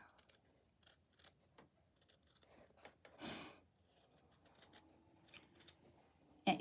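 Scissors trim cloth close to stitched seams, a few quiet snips scattered around one louder cutting burst, while working on a jelly roll fabric basket.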